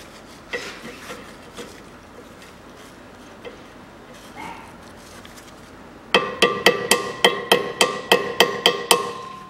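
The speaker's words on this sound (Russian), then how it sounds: "сюда придется один или два раза погладить молотком." A hammer strikes a front lower ball joint on a Toyota Mark II JZX101 about a dozen times in a quick, evenly spaced series of sharp metallic knocks, preceded by quieter workshop handling sounds.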